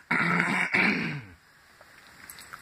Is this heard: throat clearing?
yes